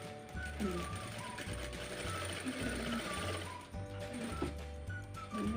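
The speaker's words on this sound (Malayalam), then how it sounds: "രണ്ട് മൂന്ന് വട്ടം സ്റ്റിച്ച് ചെയ്യാം" A sewing machine stitches through T-shirt fabric in a steady, close mechanical run, its rapid clattering needle and gear rhythm holding for several seconds with brief dips.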